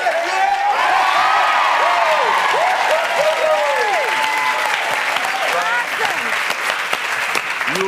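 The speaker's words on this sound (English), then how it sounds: "Big round of applause for Ryan." A crowd bursts into sustained applause after free-throw shooting on a basketball court, with clapping and whoops and cheers rising over it, loud and continuous for about eight seconds.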